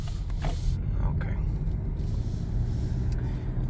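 Cars pass at night beside a 2022 Lexus ES, giving a continuous deep road rumble with swelling whooshes as vehicles go by, fairly loud and close.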